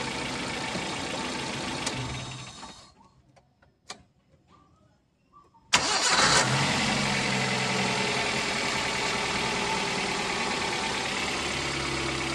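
A car engine with a faulty camshaft position (CMP) sensor idles steadily, cuts out into near silence, then restarts with a sharp jolt and settles back into a loud, continuous idle.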